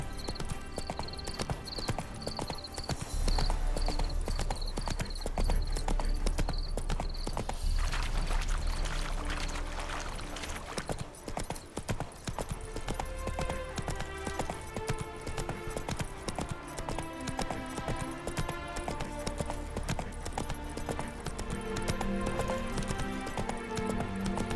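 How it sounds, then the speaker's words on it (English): Geralt's horse Roach trots in The Witcher 3, hooves clip-clopping in a steady rhythm under game music and ambience, with a brief neigh, the hoofbeats continuing throughout at moderate volume. "Spooking my horse."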